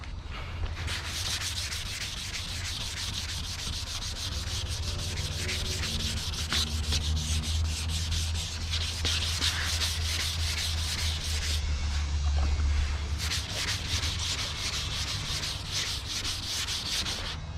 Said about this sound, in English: Let's get to sanding.